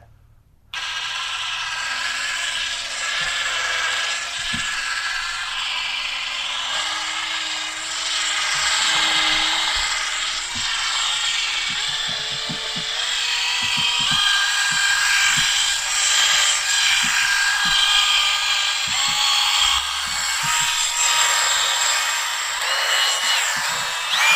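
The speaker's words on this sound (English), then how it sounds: "How's that for drill ASMR?" A loud power tool whirs steadily for a long stretch, its pitch shifting slightly as it runs, with scraping and rattling along the way.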